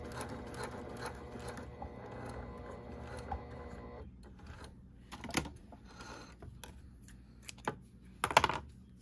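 A Brother PQ1500SL straight-stitch sewing machine sews quilt cotton with gray thread in a fast, even mechanical run for about four seconds, close and clear, then stops, leaving soft handling clicks and fabric rustles.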